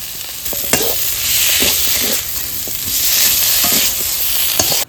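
Moringa drumstick pieces fry in a pan for a Bengali dish, giving a loud, steady sizzle close by with repeated stirring scrapes and light clinks of the utensil.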